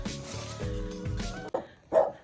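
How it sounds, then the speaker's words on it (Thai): A neighbour's dog behind a fence in a Finnish garden with ripe plums on the ground whines in a drawn-out tone, then gives two short, sharp barks close by. "โอ้ยหมาก็เห่า คือ เพื่อนบ้านเขามีหมา"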